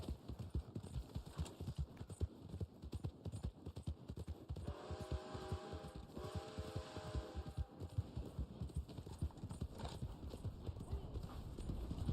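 Horse hooves clip-clop steadily in Red Dead Online, a dense repeating rhythm running throughout, with a brief whinny partway through and a voice talking over it.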